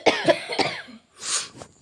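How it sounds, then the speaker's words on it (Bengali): A woman with a cold coughs several times in quick succession, close and fairly loud, followed by a breathy exhale. "কাশি আর কাশি, সবারই কাশি।"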